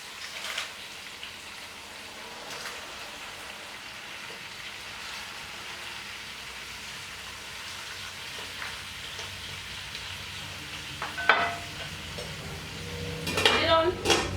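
Spinach wilts and is stirred in a frying pan with a steady low sizzle and soft scraping, ending in a few sharper clinks of utensil against pan near the close.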